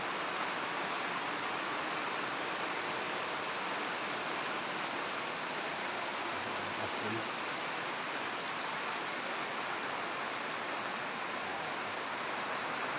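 Rain falls outdoors around a newly finished backyard hydroponic setup, producing a dense, even hiss of steady downpour that stays constant and fairly loud throughout, with no speech.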